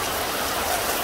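Steady rain falls in an outdoor setting where pigeons bathe with wings spread, a dense, even hiss of drops on surfaces filling the whole moment with no talk.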